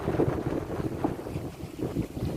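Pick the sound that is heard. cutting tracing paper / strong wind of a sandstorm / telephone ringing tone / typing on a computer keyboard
strong wind of a sandstorm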